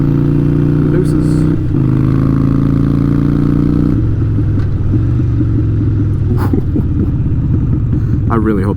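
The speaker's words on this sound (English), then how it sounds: "That grumble. Sounds like a Harley." Harley-Davidson Iron 883 motorcycle engine idling with a loud, steady low grumble that roughens and turns choppier partway through, heard up close.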